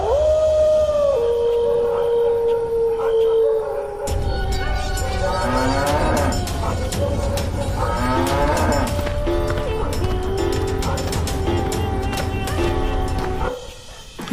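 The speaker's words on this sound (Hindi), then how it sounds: "घर पहुंचकर गौरी दर्द में फिर से रंभाते हुए भगवान को याद करती है।" An old cow in pain lows with a long, drawn-out moo near the start, then the sound gives way to a dense bed of music and other layered sound that runs almost to the end.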